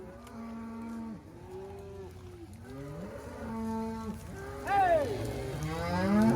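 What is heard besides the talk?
herd of cows being pushed along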